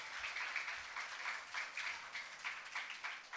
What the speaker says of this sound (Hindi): जोरदार तालियों द्वारा स्वागत। जोरदार तालियां बजनी चाहिए।